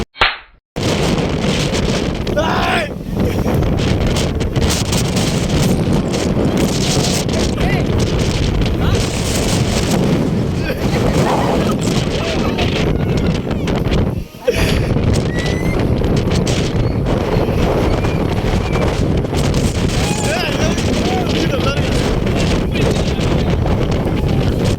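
Strong wind roars across a microphone on a hilltop road, a continuous loud buffeting that runs almost the whole time, with voices talking beneath it.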